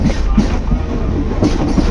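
The Vivek Express, a long-distance sleeper train, rumbles along the track in a steady close-up roar of wheels and carriage noise, with no voices.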